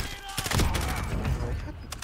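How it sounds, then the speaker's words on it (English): Dense, rapid gunfire from a Call of Duty: Warzone match rattles continuously and loudly, with sharp bursts close by and overlapping shots filling the whole stretch. "I thought the gunfire was coming from the other side"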